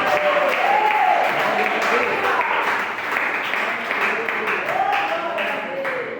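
A church congregation claps in praise during a service, broadband clapping filling the room steadily throughout, mixed with singing or voices rising over it.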